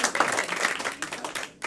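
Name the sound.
audience applause at comedy show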